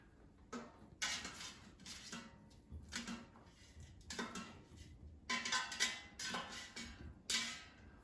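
Grilled pineapple being lifted out of an air fryer, a run of separate clattering knocks and scrapes of basket and utensils, close and moderately loud with quiet gaps between them.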